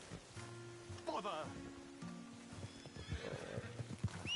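A horse in the Western game Red Dead Redemption II whinnies and snorts with clip-clopping hooves close by, while low voices and a steady background murmur run underneath.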